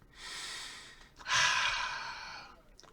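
A person sniffs audibly twice, two breathy nasal inhalations close to the microphone, the second stronger and longer, in an otherwise quiet room.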